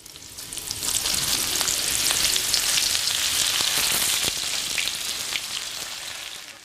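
Steady, loud sizzle and crackle of food frying in hot oil, bright hissing that swells as the food goes in and holds constant for several seconds, with scattered pops and spatters; no talking.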